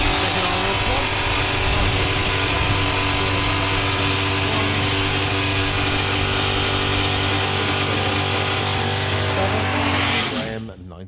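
Drag racing buggy built from a VW Beetle setup with a Subaru engine, roaring loud and steady up close for about ten seconds before cutting off abruptly; commentary runs underneath.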